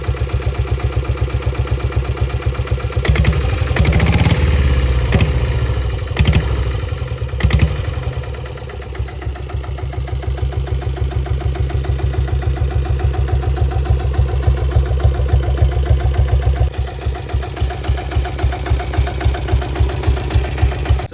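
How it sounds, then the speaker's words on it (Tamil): A 1999 Royal Enfield Taurus motorcycle engine idles close by with a steady, rapid thumping beat, briefly revved a few times early on before settling back to its even rhythm, with the engine and silencer beats heard separately. "இப்போ இந்த வண்டியோட இன்ஜின் பீட், சைலன்சர் பீட்லாம் கேட்டிருப்பீங்க."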